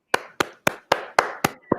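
Seven sharp, evenly spaced hand claps ring out close and clear, a small burst of applause from one or two people with no talk over it.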